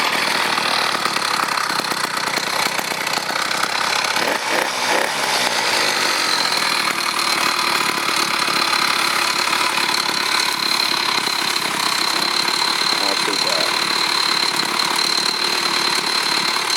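An 80cc engine fitted to a Yamaha Shogun motorcycle runs loud and close, a continuous buzzing drone with a sharp two-stroke-like rasp, holding steady throughout with a slight rise in pitch partway through.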